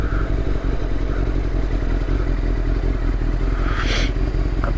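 Yamaha Thundercat motorcycle engine revving while in neutral, a loud, steady, close mechanical drone with rattling clatter throughout and a brief rising rev near the end, no speech.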